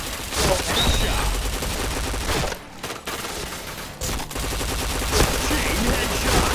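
Rapid bursts of gunfire from a shooting video game, a dense near-continuous fusillade with brief gaps, loud and crackling, with players' voices mixed faintly into the barrage.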